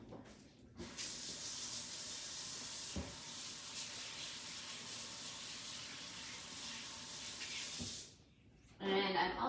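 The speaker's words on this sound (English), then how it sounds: "I'm just gonna wash my hands here for a second." Tap water runs steadily into a sink while hands are washed, a continuous hiss lasting several seconds before it cuts off, then a brief louder splash.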